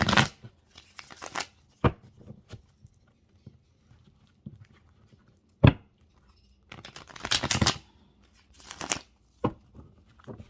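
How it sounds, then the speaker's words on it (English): Tarot cards being shuffled by hand during a reading, heard as close, crisp riffling bursts and soft slaps at irregular intervals with quiet pauses between them. "I just want a good shuffle here"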